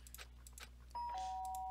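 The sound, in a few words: doorbell ringing in Danganronpa video game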